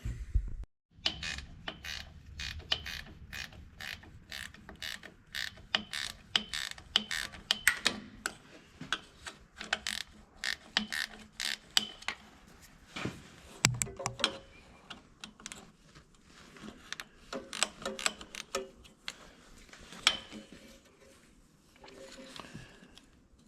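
Irregular clicking and ticking of a ratchet tightening wiring fasteners under a John Deere B tractor, rapid bursts of close mechanical clicks with brief pauses and light handling noise.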